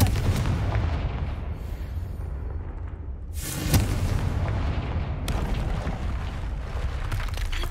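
A Confringo fire spell explodes in Hogwarts Legacy on PS5, a sharp bright blast near the middle over a steady roar of battle rumble, with another burst toward the end and no speech.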